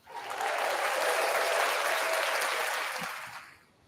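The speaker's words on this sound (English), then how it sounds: "How come you get applause?" An audience breaks into applause, a dense wash of clapping that swells quickly, holds steady, and fades out near the end, with no talking over it.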